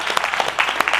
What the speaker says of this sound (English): Get the visitor a hand clap.